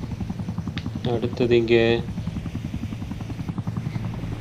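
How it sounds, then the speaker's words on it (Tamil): Helicopter circling overhead in the Batman The Dark Knight Rises video game, a steady rotor drone running under a voice in Tamil commentary. "இந்த ஹெலிகாப்டர் வேறு சுற்றிட்டே இருக்குது."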